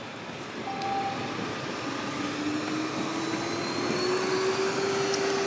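Ecovacs Deebot T30 Pro Omni robot vacuum running at 11,000 Pa suction, a loud steady close whooshing roar with a faint whine that rises gradually in pitch as the motor spins up.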